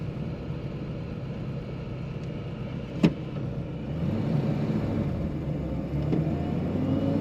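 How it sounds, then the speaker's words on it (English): A 1936 Packard 120-B Sport Coupe on the move, its engine a steady, smooth low rumble heard from inside the car, with one brief click partway through and a slight rise in level near the end. "The engine purrs like a kitten."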